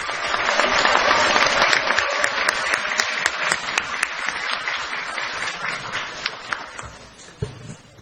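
Audience at a Korean political party convention applauds steadily and loudly, dense clapping that gradually thins out toward the end with a few scattered claps.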